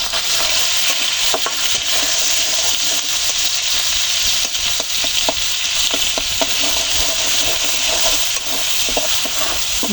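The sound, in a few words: frying prawns and garlic in a pan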